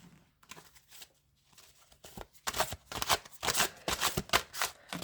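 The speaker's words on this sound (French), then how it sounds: "Pardon si les cartes vous semblent très difficiles à mélanger." A large deck of tarot or oracle cards being shuffled by hand, close up, with soft sparse rustles at first, then dense, rapid riffling bursts growing louder toward the end.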